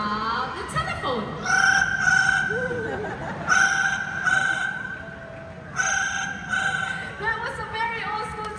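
Parrot at a bird show in Singapore mimicking an old-fashioned telephone ring, repeated trilling ring bursts in several bouts, fairly loud and close, with crowd noise behind.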